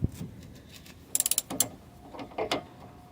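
A socket wrench ratchets on the sway bar link bolt of a 2004 Chevy Avalanche 1500, giving a quick burst of sharp close clicks between a few scattered metallic knocks.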